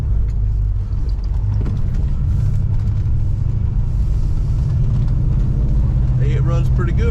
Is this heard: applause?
no